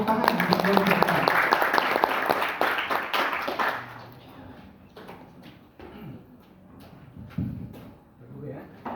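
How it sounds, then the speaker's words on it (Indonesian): Applause breaks out for team A at a provincial Quran quiz contest in an indoor hall, a dense burst of clapping for about four seconds that fades into scattered claps and room noise. "Kita berikan tepuk tangan untuk regu A"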